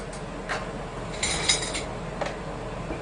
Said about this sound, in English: Let me go get a doohickey out here so we can stir it up.